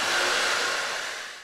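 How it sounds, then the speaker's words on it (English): High-powered electric hand dryer in a school restroom, a loud continuous rushing blast of air that holds steady and then begins to fade. "What's nicknamed a nuclear hand dryer"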